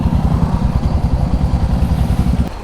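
A motorcycle engine runs close and loud on a road trip along the Karnataka coast, a steady low throbbing drone with rapid pulsing that drops slightly near the end.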